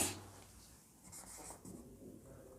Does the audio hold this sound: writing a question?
yes